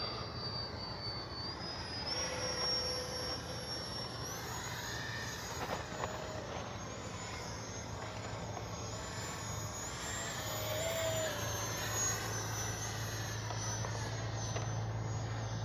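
An E-flite 64mm Viper RC jet in flight, its electric ducted fan giving a steady, loud whine that slowly shifts pitch as it passes, continuous with no talk.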